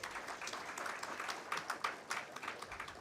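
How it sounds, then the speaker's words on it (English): Faint, steady applause from the audience at a bioenergy conference panel, a dense patter of many hands clapping at a distance and holding level for a few seconds. "A round of applause, please."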